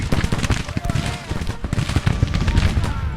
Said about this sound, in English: We can use them to get canister shot upon the enemy